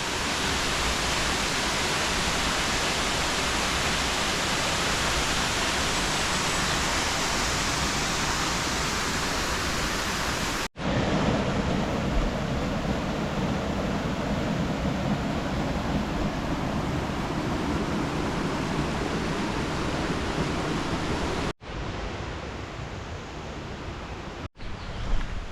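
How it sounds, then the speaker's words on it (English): A steady, loud broadband roar of rushing water, like a waterfall heard from nearby, continuous with a couple of abrupt cuts and no voices. "I've never stood here to see the waterfall before."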